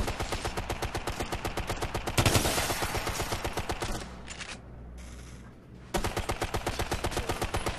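Rapid, rhythmic automatic gunfire laying down suppressing fire in the shooter game Ghost Recon: Future Soldier, loud and sustained with a brief lull before the bursts resume.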